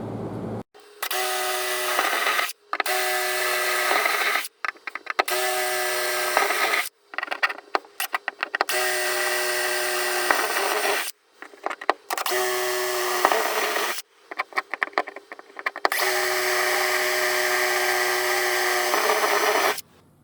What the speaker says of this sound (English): just been drilling out the spot welds